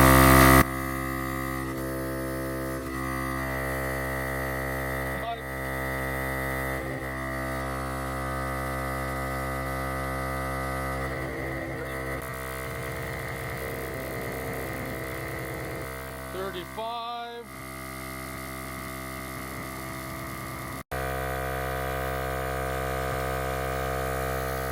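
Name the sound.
VIAIR 88P portable air compressor running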